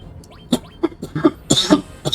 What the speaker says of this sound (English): I apologise for the coughing.